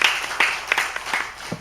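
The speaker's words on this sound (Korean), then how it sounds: "우리 아이들 한번 위해서 박수 한번 해줄까요?" A church congregation at a Sunday morning service gives the children a short burst of applause, with scattered hand claps sounding moderately close and a little uneven in rhythm.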